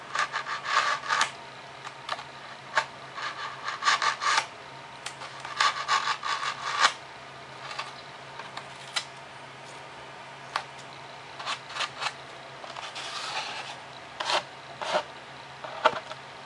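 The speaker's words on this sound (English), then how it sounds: "I'm going to go ahead and trim up this back nice and even." A foam board model airplane fuselage, a Super Cub build, being trimmed: close, uneven rasping and scraping strokes in bursts with short pauses, no talking.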